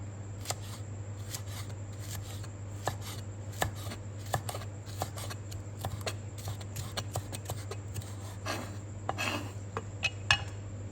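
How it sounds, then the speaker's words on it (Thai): Steady knife chops on a cutting board tap out an irregular rhythm as a red spur chili is sliced into thin strips, close up over a low constant hum. "เป็นพริกชี้ฟ้าค่ะ หั่นเป็นเส้นค่ะ เอาไว้โรยหน้า"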